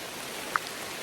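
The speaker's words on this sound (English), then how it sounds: "as you can tell, it's raining right now" Steady rain falls on a campsite along the Appalachian Trail near Brown Mountain Creek Shelter, a constant close hiss with one brief drip-like tick partway through and no voices.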